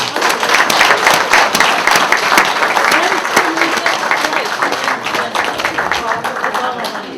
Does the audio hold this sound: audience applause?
yes